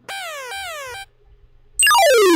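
A loud electronic 8-bit alarm: two harsh buzzing square-wave bursts, a brief gap, then a sharply falling synthetic sweep.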